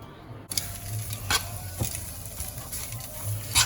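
Chicken, cabbage and noodles sizzle in an oiled frying pan with a steady hiss, broken by several sharp clacks and scrapes of stirring and tossing, close up and with no talk.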